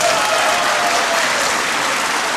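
Members of the German parliament applaud loudly and continuously after a vote on East Germany's accession to the Federal Republic, a dense, steady wash of clapping throughout.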